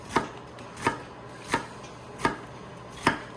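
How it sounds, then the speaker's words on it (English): A knife dices an onion on a cutting board, five sharp, evenly spaced chops about two-thirds of a second apart, close and clear with no talking. "So we're going to do 1, 2, 3, 4 cuts across. Then we're going to go cuts down."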